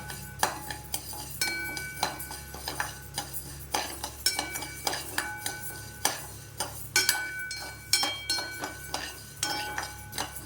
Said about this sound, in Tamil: இதை வந்து நல்லா வறுக்கணும். சிம்மிலேயே வச்சு வருங்க.